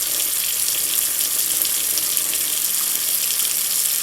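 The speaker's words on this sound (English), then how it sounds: "I'm going to just pour most of this liquid off the top." Liquid is poured off fermenting tomato seeds, a steady close hissing trickle of water running continuously at even volume.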